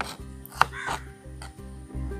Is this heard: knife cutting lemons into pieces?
yes